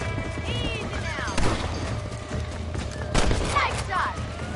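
Scattered gunshots crack amid a busy scene in Red Dead Redemption, shooting coyotes, with a few sharp reports, whistling tones and background commotion, fairly loud in bursts.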